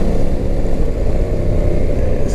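A motorbike accelerating on a road to overtake another vehicle, a loud, steady engine roar with heavy wind rumble close to the rider.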